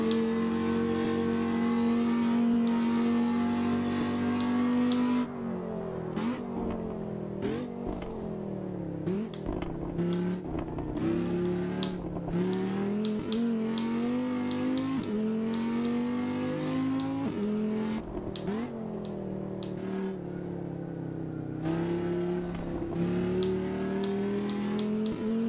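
A car engine in a racing video game played on a gamepad, revving loudly and continuously, with pitch rising and falling through gear changes and throttle swells, no speech.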